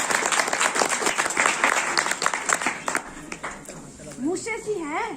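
A live audience applauds Pritam's arrival with dense, loud clapping that fills the first few seconds, then thins out as a voice speaks over the fading claps.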